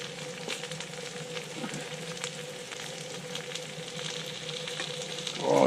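Pre-cooked pea meal bacon warming in a pot on a winter outing, a continuous crackling sizzle with scattered pops that rises louder at the very end.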